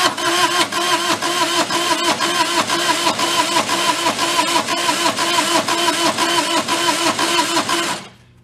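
A non-running Bobcat's diesel engine cranks steadily and loudly for about eight seconds with a rhythmic, uneven chug, one cylinder low on compression, never catching before the starter cuts off.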